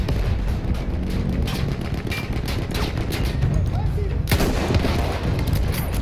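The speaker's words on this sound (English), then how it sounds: "there's a gun somewhere shooting him" Battlefield 1 campaign combat with continuous gunfire and heavy booming shots across a dense battlefield din, loud and sustained, with a sharp close report near the end.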